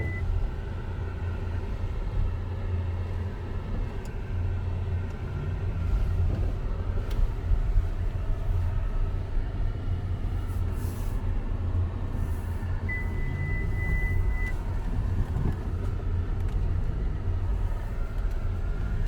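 An MG Gloster SUV crawls over an off-road test obstacle, its engine a steady low rumble with creaks and thumps of the body shifting, plus a brief electronic beep partway through.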